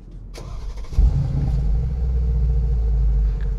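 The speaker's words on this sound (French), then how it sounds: "On va vite démarrer le véhicule parce qu'il fait extrêmement chaud." A 2020 Mercedes G63 starts up. A brief click and starter whirr lead into a loud burst as the engine fires, then it settles into a deep, steady, close idle rumble.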